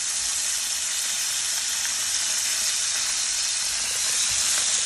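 Lahori-style cod fish frying in a pan, a steady, dense sizzle and hiss that stays constant and close throughout with no talk.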